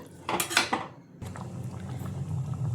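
A spoon scrapes and clinks against a metal pot of egg curry in a quick burst, followed by softer stirring and a gentle bubbling simmer.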